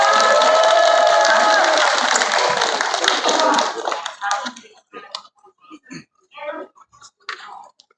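Rally crowd of union members and supporters at Seoul National University applauding loudly and steadily, with clapping and a few cheers that fade after about four seconds into scattered claps and bursts of talk.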